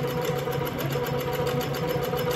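Baby Lock Regalia sewing machine stitching slowly with glitter thread, a close, steady mechanical whir with an even rapid chatter of needle strokes, no talk.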